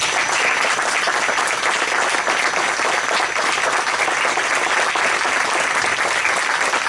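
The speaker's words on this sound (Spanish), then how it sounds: "para los que pido un cariñoso aplauso" Warm, loud applause from an audience at a museum tribute in Navas del Rey honoring the parents of Ignacio Echeverría, a dense unbroken roar of clapping close by that stays level from start to finish.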